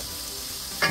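Onion and bell peppers sizzle steadily in a hot pan, a constant soft hiss that swells suddenly near the end as they are stirred.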